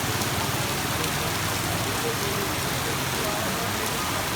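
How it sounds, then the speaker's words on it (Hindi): Heavy rain pours during a storm in Lahore. A dense, continuous hiss of downpour beats on surfaces, steady and close throughout, with no pauses. "बहुत ही हैवी किस्म की रेन हो रही है"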